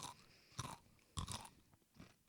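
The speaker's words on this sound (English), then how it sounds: "Are we all going to chew chips in the microphone?" Potato chips crunch close to a microphone in a few separate bites and chews, quiet overall but crisp, with no talking in between.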